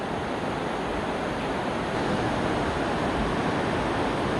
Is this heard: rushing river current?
yes